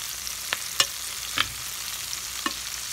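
Breakfast medley frying in a pan on medium-high heat, a steady close sizzle with a few sharp stirring scrapes and clicks scattered through.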